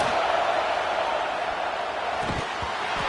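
A loud, dense roar from a football stadium crowd during a Gators game on third down, a steady broadband wash with no voices standing out, holding at full level throughout.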